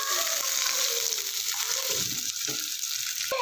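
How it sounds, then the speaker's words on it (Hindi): Ginger garlic paste and chopped onions fry in a pan with a loud, steady, close hiss and sizzle, spattering continuously throughout with no voices. "फ्राई कर लेंगे इनको अच्छे से"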